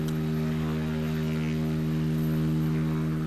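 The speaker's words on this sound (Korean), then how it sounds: "활주로가 필요 없이 바로 위아래로 이착륙이 가능한 무인기 틸트로터" A tiltrotor unmanned aerial vehicle, able to take off and land vertically without a runway, flies with a steady, loud propeller drone and strong rotor hum running continuously throughout.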